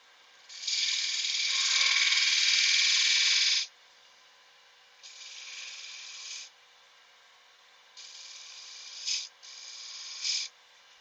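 A larch vase is turned on a lathe as a tool cuts a decorative edge at its top, making a loud, steady rasping scrape for about three seconds, then several shorter, quieter scraping passes with brief pauses between them.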